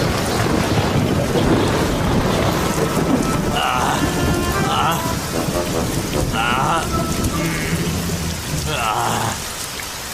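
Heavy rain pours steadily throughout with rumbling thunder underneath, while faint tonal musical sounds surface intermittently in the background; no one speaks.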